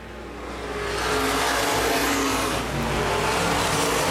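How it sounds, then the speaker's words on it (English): Open-wheel modified race cars roar around the Baer Field Speedway oval during a 2012 feature race, a dense, loud blend of engines building in the first second, then holding steady with a brief dip. "Mike Mays wheel to wheel with Corey Setzer"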